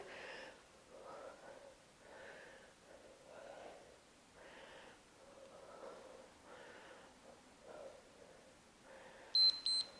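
A workout interval timer gives a short, sharp double beep near the end of an at-home resistance training session, after several seconds of voices and breathy sounds.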